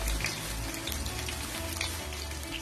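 Small onions cut crosswise frying in oil in a pan, giving a soft, steady sizzle and crackle that runs quietly throughout with nobody speaking.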